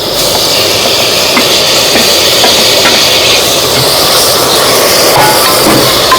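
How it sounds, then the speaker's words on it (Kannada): Tomatoes with chopped green chillies frying in oil in a pan, giving a steady close sizzle with scraping stir strokes throughout, no talk over it. "ಟೊಮೊಟೊ ಒಂದು ಎರಡರಿಂದ ಮೂರು ನಿಮಿಷ ಈ ಥರ ಕೈ ಆಡ್ತಾ ಇರಬೇಕು"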